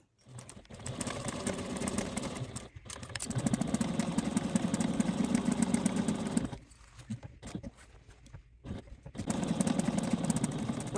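A sewing machine topstitches along both sides of the seams of a fabric project bag. The motor whirs steadily in bursts of a few seconds, broken by brief pauses and short stops.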